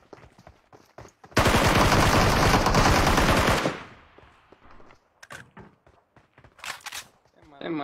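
Sustained automatic gunfire in PUBG Mobile, a loud dense burst lasting over two seconds, followed by scattered single shots and clicks while a voice talks in between.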